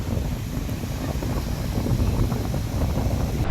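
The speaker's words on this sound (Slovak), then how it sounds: "Najlepšia vec dneska je to, že nám tu fúka" Steady wind rushes across the open shore of Ghadira Bay beach in Malta, a continuous broadband roar buffeting the microphone with no pauses and no voices.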